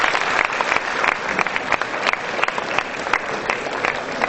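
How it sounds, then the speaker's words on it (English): Parents applaud students at an Annual Appreciation Day event in 2017, with loud, sustained clapping from a large crowd that keeps an even intensity. "parents, can we have a big round of applause for our students today?"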